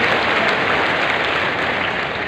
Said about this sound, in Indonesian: Tepuk tangan dulu yang paling meriah.